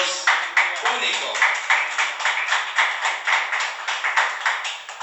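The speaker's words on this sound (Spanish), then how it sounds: "Dale un fuerte aplauso al Dios único" A church congregation claps in a strong, regular rhythm, sharp unison beats repeating about three times a second, close and loud throughout.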